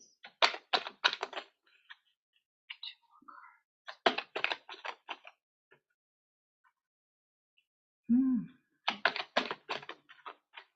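Quiet bursts of rapid riffling and flicking as tarot cards are shuffled, in several short clusters separated by pauses, with a brief voiced sound between.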